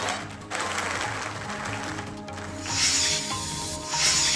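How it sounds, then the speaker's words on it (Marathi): A crowd at a public event in Solapur claps continuously, a dense rushing patter that swells louder toward the end, with no voices over it. "यावेळी उपस्थितांनी टाळ्यांचा कडकडाट करत राजेंच्या या कृतीला प्रतिसादही दिला."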